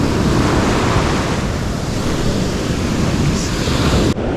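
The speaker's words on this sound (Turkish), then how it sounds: "Dalga çok güzel." Sea waves break along the shore during spin fishing for bluefish, a loud, constant broadband roar of surf mixed with wind buffeting the microphone.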